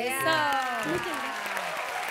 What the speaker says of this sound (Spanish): Aplauso Chile, de verdad